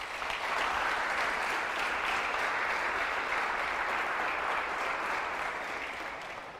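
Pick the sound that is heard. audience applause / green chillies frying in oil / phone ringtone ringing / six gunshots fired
audience applause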